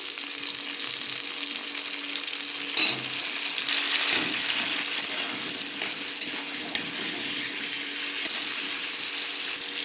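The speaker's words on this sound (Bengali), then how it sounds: "পেঁয়াজটা ভাজা হয়ে যায়, সব সবজিগুলো দিয়ে দিলাম" Onion and vegetables fry with cumin in a pan, giving a steady, close sizzle with a couple of brief stirring clatters. No talking is heard.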